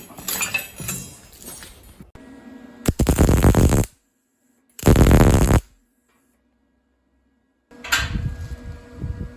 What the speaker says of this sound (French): Maintenant, on fait un point de soudure